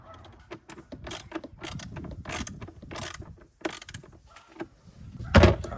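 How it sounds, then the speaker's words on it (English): A ratchet tightens a filter bolt on an S650 Mustang, giving repeated close, sharp bursts of metallic clicking with short pauses between strokes and a louder final burst. "Now I'm finna tighten this one."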